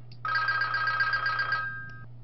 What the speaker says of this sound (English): I've got Mrs. Miggins on the phone.